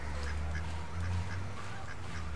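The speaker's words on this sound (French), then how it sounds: "Voilà les deux canards, enfin, monsieur et madame" Ducks quack in a repeated, fairly steady rhythm over a constant low hum, moderately close.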